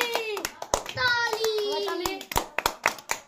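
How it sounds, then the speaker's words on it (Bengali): Scattered sharp hand claps, several irregular slaps, with a voice talking and calling over them. "জোরে হাততালি।"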